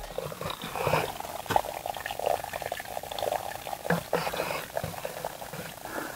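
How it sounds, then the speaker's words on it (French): A small trickle of water runs over rock at a tiny village wash house in the Charente countryside, a continuous light gurgling and splashing close by, with no voices. "là c'est avec le petit filet d'eau qui coule là"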